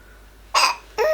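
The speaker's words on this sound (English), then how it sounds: "Oh, still got the hiccups." A baby girl of about five months hiccups twice in quick succession, two short sharp bursts over a quiet room background.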